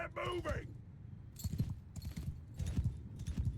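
Cavalry horses gallop into a charge in the game Mount and Blade 2 Bannerlord, a dense rumble of hooves with loud thudding bursts that rise and fall. A brief voice is heard at the start.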